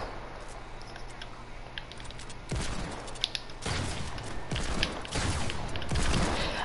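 Rapid gunfire from a shooter video game, a low steady hum at first, then several quick bursts of shots and clattering bangs from about two and a half seconds on, fairly close and continuing to the end.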